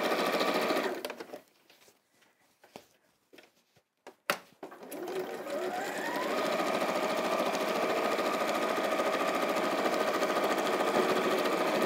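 A sewing machine stitches a fabric caddy, running in short stop-start bursts at first, then settling into a long, steady, close whirring run.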